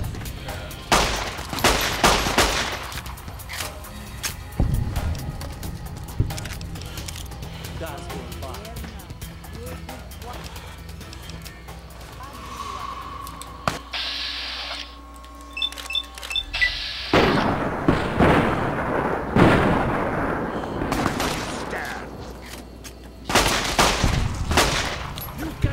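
Bursts of loud gunfire and booming blasts in Fallout New Vegas combat, in several clusters separated by quieter stretches, with a voice talking over parts of it.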